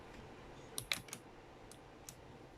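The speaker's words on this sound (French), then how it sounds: "Si vous entendez mon clavier, bah c'est normal" A few scattered computer keyboard clicks, sparse and fairly quiet, tapping irregularly over a faint background hiss.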